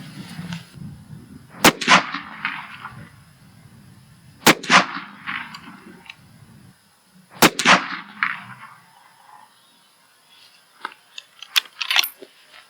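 Three sharp, loud reports from a .308 rifle fitted with a Zeiss scope and a NiteSite NS200 night-vision unit, evenly spaced a few seconds apart, each trailed by a brief echoing decay, with faint clicks and rattles afterward.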